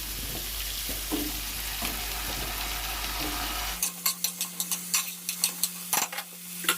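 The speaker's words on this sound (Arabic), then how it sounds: "قلبنا البطاطس تقلبتين مع البصل ومطرح اللية والزبده" Potatoes with onions, fat and butter stirred in a pan, first a dense frying sizzle over a low hum, then a quieter stretch with a series of sharp rhythmic scrapes and clacks of the utensil, close and distinct.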